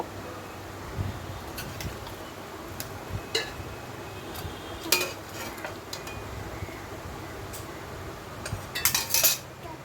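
Potatoes being added to a biryani pot, with faint scattered metallic clinks of a spoon against cookware over a low, steady background hum.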